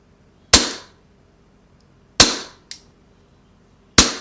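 A Walther PPK/S CO2 BB pistol with a spring-modified slide dry-fires with no BBs loaded, three sharp, loud blowback cracks with a small click after the second, spaced over a few seconds in a quiet room.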